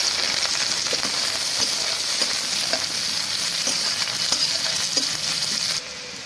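Chopped onion hits hot mustard oil with a few whole cumin seeds in a karahi and sizzles loudly and steadily, with scattered spatters and pops. The frying drops suddenly quieter near the end.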